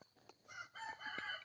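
Faint chickens cluck and a rooster crows in the distance, in an outdoor rural setting in southern Laos, with quiet ambient noise and no clear talk.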